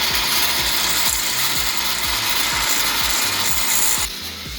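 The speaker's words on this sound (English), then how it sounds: "So I'm gonna just shave this side down because it's on the back side" Rough rhythmic scraping as the edge of a metal engine fitting on a three-rotor FD RX-7 project is shaved down, a steady ratcheting rasp at close range that stops abruptly near the end.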